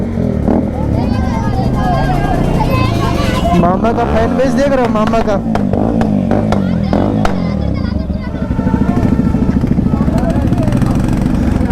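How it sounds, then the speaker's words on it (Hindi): A motorcycle fitted with a full-system exhaust revs loudly on a group road ride, a rough engine drone rising and falling in pitch while someone talks excitedly over it. "फुल सिस्टम एग्जॉस्ट लगा लिया लड़का।"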